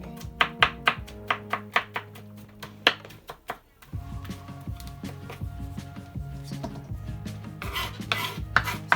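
Garlic being cut and chopped with a knife on a board for beef stew, a run of crisp rhythmic chopping taps, near and distinct, with a short pause before quicker, denser chopping resumes alongside clinking.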